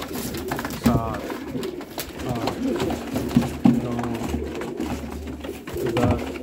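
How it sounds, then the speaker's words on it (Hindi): Momi Chowk breed pigeons coo in soft, repeated throaty bursts close by, mixed with low murmuring voices in the background. "ये मोमी चौंक का कबूतर है"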